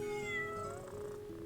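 A cat meows in a video game, a clear drawn-out call standing out alone with a steady tonal hum underneath and no talking.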